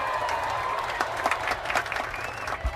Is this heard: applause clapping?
yes